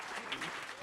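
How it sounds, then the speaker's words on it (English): An audience claps steadily for a speaker being honored at a church-related campus talk, a dense, even wash of hands throughout the short moment. "do you mind if we give a big round of applause to Karen Kiefer?"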